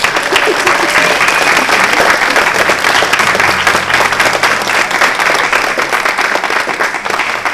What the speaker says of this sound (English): So a round of applause to all of the students performing tonight.